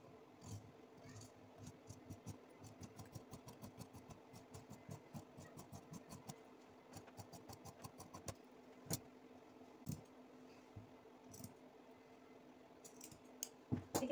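Scissors cut through kurti fabric in a rapid run of crisp snips for about eight seconds, then a few slower, sparser cuts follow, all close and fairly quiet with no talking.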